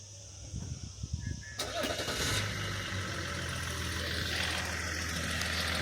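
A Ferrari 488 Spider engine cranks and fires with a sharp bark, then settles into a steady, close idle that continues to the end, with faint background noise before the start.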